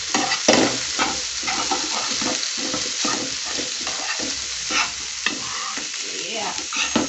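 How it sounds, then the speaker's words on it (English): Samosa filling sizzling in a pan as it is stirred continuously, with a close, steady frying hiss broken by repeated scraping and clattering strokes of the spoon against the pan, no voices. "so you can keep on stirring, stir until the mix is even"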